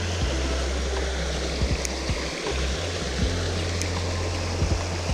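Creek water flows steadily near a small bridge, with a constant rushing hiss and low, rumbling bumps from handling or wind close by.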